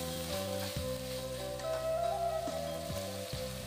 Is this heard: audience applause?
no